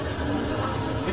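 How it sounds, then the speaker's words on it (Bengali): Water splashes into a pan of sautéed spice paste while a Bengali yogurt catla fish curry cooks, a short, steady, close pour that runs for about a second. "একটু জল দেবো,"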